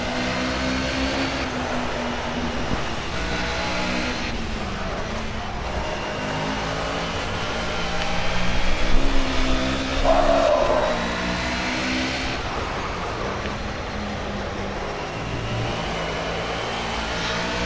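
A race car engine revving steadily at the Nurburgring in Project Cars, a loud harmonic drone that climbs and drops through gear changes, with a brief surge and faint tire squeal midway.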